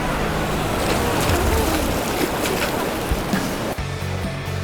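Whitewater rapids on the Nantahala River rush and roar steadily and broadband around an inflatable kayak, close and loud, easing slightly near the end.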